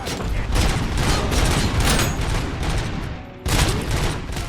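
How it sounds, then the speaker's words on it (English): Heavy machine guns in RoboCop: Rogue City fire sustained, loud bursts of rapid gunfire with a short break before the shooting resumes. "they actually have a couple of heavy machine guns here"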